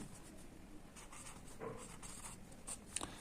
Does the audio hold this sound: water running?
no